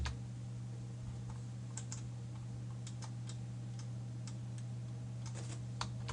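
A computer keyboard being typed on, with quiet scattered key clicks over a steady electrical hum, faint and close, and no voice.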